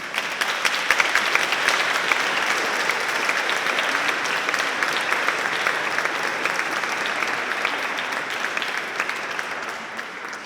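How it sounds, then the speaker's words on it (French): Congregation applauding inside the church of St Sixte II in Pérols, a loud, dense and sustained wash of clapping lasting the whole stretch without a break. "On peut applaudir, je crois."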